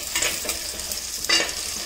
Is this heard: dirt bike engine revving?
no